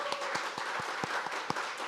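A church congregation at a Korean Sunday worship service claps in a quiet, steady rhythm, with distinct evenly spaced claps rather than a dense roar.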